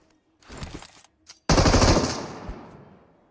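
M249 light machine gun firing in PUBG Mobile: a short stuttering burst, a pause, then a loud sustained close-range volley that tails off into echoing decay.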